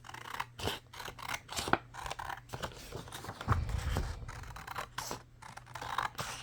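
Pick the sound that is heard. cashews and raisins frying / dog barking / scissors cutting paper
scissors cutting paper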